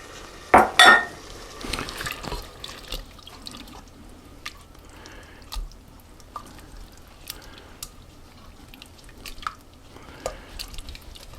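A ketchup and water mixture splashes into a pan at the start, followed by quiet drips, light clinks of utensils and soft sizzling.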